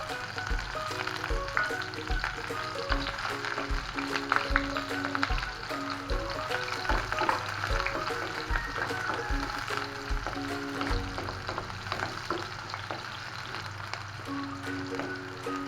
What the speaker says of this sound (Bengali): প্রথমে দিয়ে দিচ্ছি পেঁয়াজ কুচানো